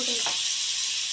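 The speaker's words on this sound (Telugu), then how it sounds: "ఫ్రెండ్స్ ఇప్పుడు ప్యాన్లో ఆయిల్ వేసుకోవాలి, సిమ్లో పెట్టుకున్నా. నెక్స్ట్ బటర్ వేసుకోవాలి." Oil and butter heat in a pan on a low flame for pav bhaji, giving a steady hissing sizzle with a brief soft scrape near the start.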